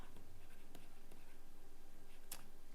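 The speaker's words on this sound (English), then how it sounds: "okay, I'll write it here." Pen or marker scratching out a word by hand, soft and faint with a few quiet strokes and a brief sharper tick near the end.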